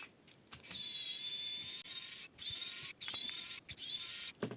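Small screws being backed out of the pumpkin housing on a stock MN99S front axle of an MN/WPL RC car, giving near, close-miked mechanical clicking and whirring in several bursts separated by brief pauses, with no talk.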